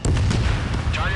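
Missile strikes a target in the combat flight video game Ace Combat 7, a short loud booming blast with crackling rumble, lasting about a second.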